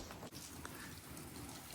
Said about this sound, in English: I'm just going to enjoy the rainy evening here.